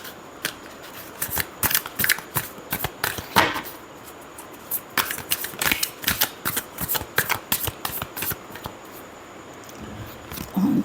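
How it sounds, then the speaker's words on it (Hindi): A deck of tarot cards shuffled by hand during a reading, giving crisp riffling bursts in an irregular rhythm, close and fairly loud, with brief pauses between shuffles. "last shuffle"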